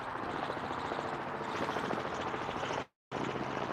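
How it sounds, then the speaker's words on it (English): Loud, continuous broadband thrum of a helicopter passing directly overhead, close and steady throughout with a brief cutout near the end. "That's a chopper."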